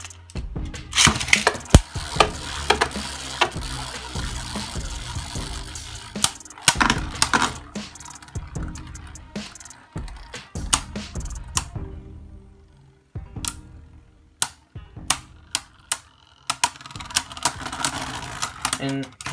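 Beyblade Burst tops, Doomscizor D3 and Kinetic Satomb S3, whir and clash in a plastic stadium with sharp clacking hits and rattling scrapes in bursts, then a short pause before another round; a voice calls the launches.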